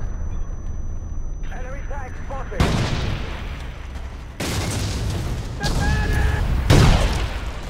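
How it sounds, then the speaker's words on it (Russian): Gunfire and explosions in the Battlefield 2142 video game, loud booming bursts and rattling shots arriving in several waves, with speech between them. "Откуда он стреляет?"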